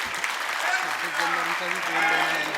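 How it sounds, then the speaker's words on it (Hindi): An auditorium audience applauds in a steady wash of clapping while a voice talks over it. "अगर अच्छा लगा हो आपको तो कृपया तालियों से अवश्य जवाब दें"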